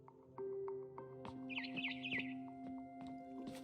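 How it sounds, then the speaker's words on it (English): Quick bursts of barn swallow chirping in the video game What Remains of Edith Finch rise over a steady tonal background, a short twittering call heard for about a second amid soft clicks. "Then I heard chirping outside my window."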